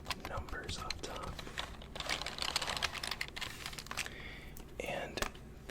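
A secondhand computer keyboard with a number pad is handled and typed on, giving close, crisp rapid key clatter and plastic tapping with some rustling throughout, recorded in an intimate ASMR style.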